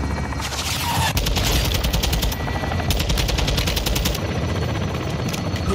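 Loud close bursts of automatic gunfire and scattered heavy shots fill a battle in the video game Call of Duty Modern Warfare 2, with rapid firing surging in waves throughout.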